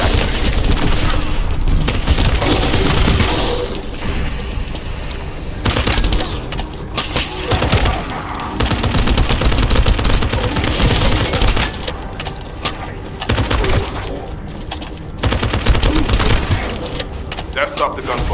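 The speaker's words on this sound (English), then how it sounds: "That stopped the gunfire." Dense gunfire rattles through a firefight in the sci-fi looter shooter The First Descendant, with loud bursts and rapid shots nearly continuous over background game noise, a few brief gaps between volleys.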